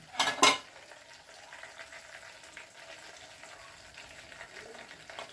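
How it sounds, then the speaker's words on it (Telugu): A lid is set onto a pot of raw-fish curry (fish pulusu) on the stove, giving two quick, close metallic clanks, then a faint, steady simmer underneath. "మూత పెట్టేస్తున్నాను"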